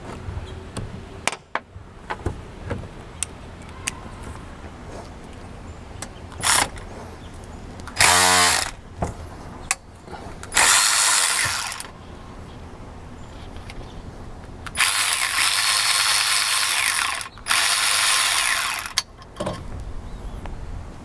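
A ratchet wrench loosens a supercharger mounting bolt on a 2011 Sea-Doo RXT, clicking in short bursts with pauses between them, close and fairly loud, alongside a few clanks of tools and parts.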